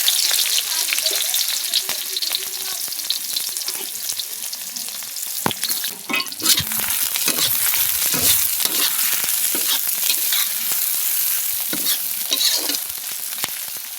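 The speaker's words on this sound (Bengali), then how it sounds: "পেঁয়াজটাকে আমি একটু বাদামি করে ভেজে নেব" Chopped onions fry in oil in a wok, a loud, continuous crackling sizzle with rapid scraping strokes of a spatula throughout, close up and without speech.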